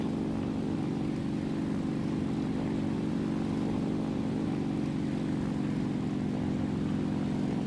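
Bomber aircraft engines in a flight simulator game drone steadily at cruise power, a dense, even, continuous hum with no breaks or talk.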